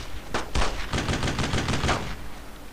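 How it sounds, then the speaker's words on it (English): Bursts of rapid gunfire in the World War II shooter Brothers In Arms: Road To Hill 30, loud and close, with a few single shots followed by a rattling automatic volley lasting about two seconds. "Someone was literally just shooting."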